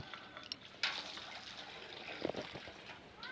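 Water is poured over a bicycle as it is being washed, making a soft, steady trickle with a couple of brief, louder splashes and no talking.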